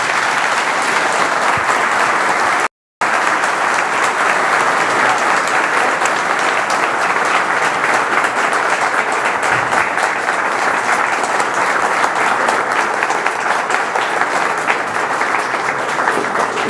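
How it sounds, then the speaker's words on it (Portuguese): Loud, sustained audience applause after a lecture on political reform in São Paulo, dense clapping from a large crowd continuing steadily with one brief dropout near the start. "Uma salva de palmas para você."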